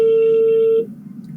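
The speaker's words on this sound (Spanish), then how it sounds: "Por ahí hay un micrófono encendido con un teléfono sonando" A telephone rings steadily near an open microphone for nearly a second, a sharp electronic tone that then cuts off and leaves a low room hum.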